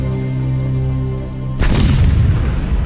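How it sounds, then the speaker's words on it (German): Over a ton of explosives sunk deep underground in southern Turkey detonate, a sudden loud deep boom breaking in after a sustained low drone, followed by a rumbling wash of noise. "Nach der Explosion dauert es Sekunden, bis der gewaltige Druck sich Platz verschafft und Wasser und Sand in Fontänen in die Luft schleudert."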